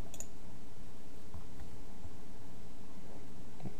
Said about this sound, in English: I'm going to click download